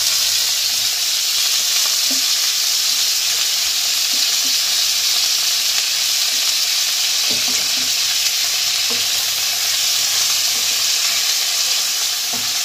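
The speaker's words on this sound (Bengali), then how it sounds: "এতে আমি পেঁয়াজ কুচি করে রাখা 3-4টে পেঁয়াজ আমি এতে দিয়ে দেব। এবার ব্রাউন করে ভেজে নেব।" Chopped onions fry steadily in white oil, a continuous loud sizzle with occasional stirring scrapes and clinks throughout, no talking.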